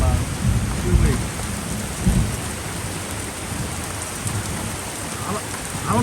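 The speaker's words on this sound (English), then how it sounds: "This is actually our first real good rain in about 2 weeks." Steady rain falls in a continuous hiss while low rumbles of thunder roll in and out, a good soaking storm heard from under cover.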